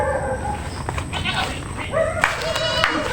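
Goats on a backyard goat farm in Lutucan, Sariaya, Quezon bleat several times in wavering cries over a steady outdoor din, with people talking nearby.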